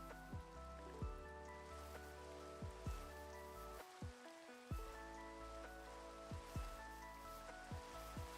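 Rain falling in the video game Minecraft, a steady soft patter spread across the whole stretch, mixed with recurring game tones and thumps layered on top.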